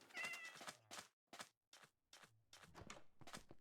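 A cat in the Minecraft video game meows in a run of short, close cries, five or six separate calls with brief silent gaps between them and no voices.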